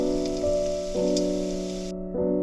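Asafoetida sizzling in hot oil left over from frying potatoes makes a steady, even hiss with faint crackles, set against a sustained humming tone that breaks off briefly twice.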